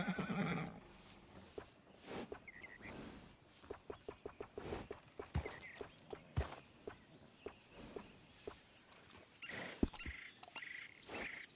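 A horse in the video game Red Dead Redemption 2 whinnies at the start, then hooves clip-clop and footsteps tap in an irregular rhythm against faint outdoor ambience, with no talking.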